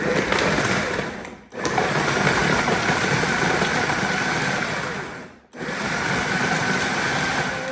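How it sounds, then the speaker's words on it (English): A food processor grinds low-carb, gluten- and grain-free breading ingredients with a loud, continuous motor whir, briefly stopping twice before spinning up again. "throw these in my food processor. Go ahead and grind this up."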